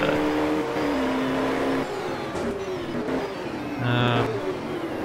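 Ford Mustang and Holden touring cars race at Teretonga in the 1985 New Zealand Touring Car Championship, loud engines roaring continuously with shifting pitch as cars rev and pass close by.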